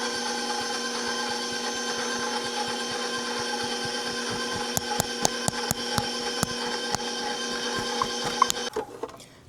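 A stand mixer with a dough hook churns cinnamon roll dough with a steady, droning motor hum, punctuated by a series of sharp ticking knocks near the end before the motor cuts out.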